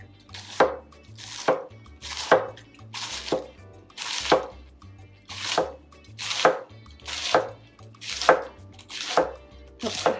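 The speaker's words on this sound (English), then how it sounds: "have a sharp knife to do this. And then just cut it once down the middle." A sharp knife shaves big cabbage leaves into fine shreds on a board, about a dozen crisp, evenly spaced chops, close and clear with nothing else heard.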